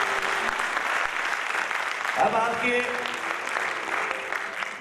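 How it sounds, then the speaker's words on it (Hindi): Loud live-show audience clapping at a qawwali stage event, steady dense applause throughout, with a voice speaking over it briefly partway through. "तालियां इस कदर जोर से बजाओ कि कलाकार कहे कि क्या बात है"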